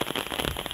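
Heavy rain pouring on a rural farm lot, a dense, loud, steady patter of drops hitting surfaces close by, continuous with no talk.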